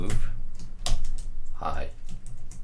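Quick bursts of keystrokes on a computer keyboard while coding a 2D game in Java, close and fairly loud, mixed with a man's speech.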